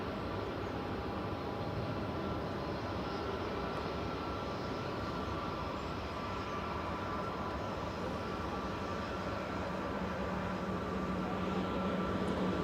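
Steady broadband roar of a Loganair Embraer ERJ145 regional jet passing overhead near Manchester Airport, a continuous even drone with a low rumble that holds for the whole stretch, no voices.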